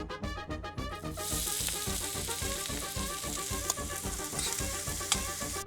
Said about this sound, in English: Meanwhile, onions into the pan.